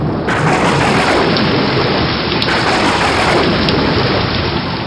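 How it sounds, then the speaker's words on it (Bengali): Heavy rain pours steadily as a thunderstorm begins, a loud, dense, unbroken roar of falling water with low rumbling thunder underneath and no voices. "যা, বৃষ্টি নেমে গেল।"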